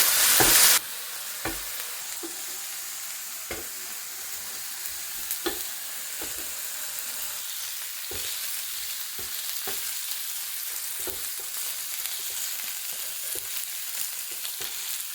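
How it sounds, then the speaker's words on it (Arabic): Onions and peppers frying in a pan, a constant sizzle with repeated sharp scrapes and knocks of a utensil stirring them at an uneven pace, close and without speech. "هلا بنزل الفلفله كمان، نعطيهم تحريكه"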